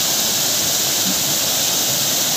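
Steady broadband roar of the Periyar waterfall in the Kalvarayan Hills, a continuous rushing hiss of falling water that stays even and unbroken throughout, with no voices.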